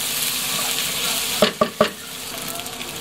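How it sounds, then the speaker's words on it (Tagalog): Sizzling food in a pan stirred with a utensil, a continuous close frying hiss broken by three quick scraping knocks of the spoon against the pan. "Haluin natin para hindi masunod sa iba."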